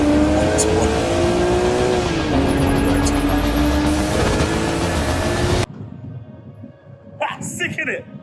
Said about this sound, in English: This is the Porsche 718 Boxster.